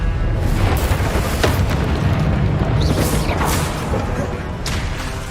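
Confringo fire-blast spell in the Hogwarts Legacy game, heard as deep booming bursts with sharp crackling flares, several hits spaced over a few seconds, loud and close, and a voice shouts spell names at times.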